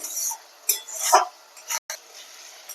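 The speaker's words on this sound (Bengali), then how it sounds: "লবণটা দিয়ে আমি আরও তিন চার মিনিট চেড়ে চেড়ে রান্না করব" Metal spoon clinks and scrapes as tomatoes are stirred in a cooking pan, a few short close clatters with quiet gaps between.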